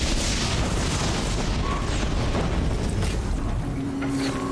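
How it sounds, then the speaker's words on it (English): Missile explosions in the video game Horizon, a continuous loud rumbling barrage of booms and blasts with no clear gaps, dense and close. "Ah, missiles!"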